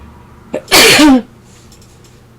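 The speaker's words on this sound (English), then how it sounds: "Excuse me, I'm going to sneeze." A single loud sneeze bursts out after a short sharp inhale, then quiet returns with faint breathing.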